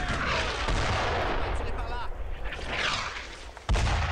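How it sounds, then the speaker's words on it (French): Heavy gunfire and artillery-like blasts in the WWII shooter game Brothers in Arms: Road to Hill 30, dense and continuous with a loud boom near the end, under a voice calling out. "Feu nourri les mecs, feu nourri sur la position"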